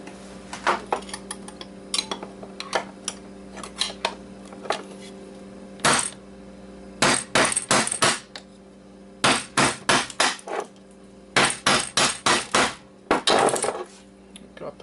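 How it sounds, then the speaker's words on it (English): Sharp metallic hammer strikes on a metal object, coming in irregular bursts of quick repeated blows with short pauses between, loud and close, with no talking. "So I can hammer this thing out."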